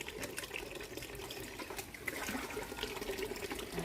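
Water is poured over a pet during a bath, a soft continuous splashing and running stream that stays fairly faint and steady throughout, with no talking.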